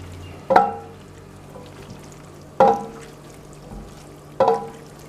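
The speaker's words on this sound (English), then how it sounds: "Now we'll add the pasta and start mixing it through." Pasta being stirred through capsicum and tomatoes in a pan, three distinct scraping clatters roughly two seconds apart over a low steady background hum.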